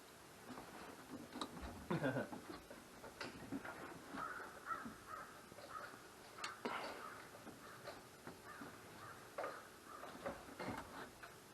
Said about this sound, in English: Shoot that crow.